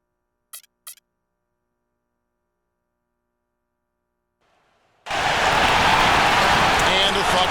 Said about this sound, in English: You can hear the roar here at the United Center.